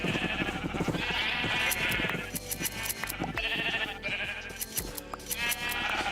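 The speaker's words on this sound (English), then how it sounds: "Shearing the sheeps." Sheep in Minecraft bleat repeatedly in a lively village scene, the wavering cries overlapping in quick succession with steady background sound throughout.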